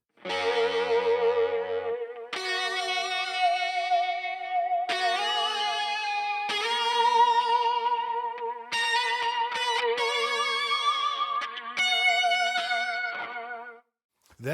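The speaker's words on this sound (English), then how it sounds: "That is the Electro-Harmonix Holier Grail reverb pedal." Sustained electric guitar chords, from a Fender Musicmaster through an Electro-Harmonix Holier Grail reverb pedal, drenched in heavy reverb, each strum blooming into a long wet wash, played continuously with a few sharp changes.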